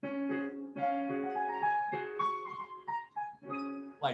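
A soft, lilting waltz melody with sustained tones in a gentle three-beat sway, played quietly and alone.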